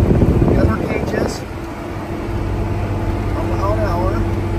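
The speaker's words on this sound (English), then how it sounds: "In an 8760 John Deere all-wheel drive articulated tractor." Cab ride in a John Deere 8760 all-wheel drive articulated tractor working a field at about 6 mph, with a steady low engine drone and hum filling the cab throughout, louder at the start.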